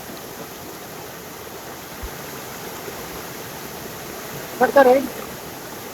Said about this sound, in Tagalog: ito na yung Burong Falls mga kabayan